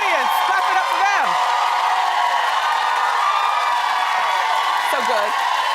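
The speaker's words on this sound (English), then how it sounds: "clap it up for them." A talk-show studio audience claps and cheers, with a steady roar of crowd noise and a few whooping voices rising and falling over it.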